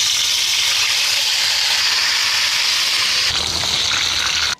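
Goat leg pieces frying in hot oil ahead of a roast give a loud, dense, continuous sizzle and hiss close by, with a slight shift near the end before it cuts off; no one speaks.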